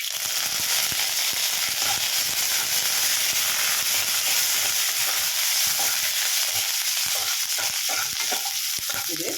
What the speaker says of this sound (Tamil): இப்போ கருவேப்பிலை போட்டேன்.